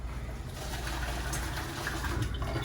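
Milk being poured into a pot of banana porridge, a steady liquid pour and gentle gushing sound heard close up without talk.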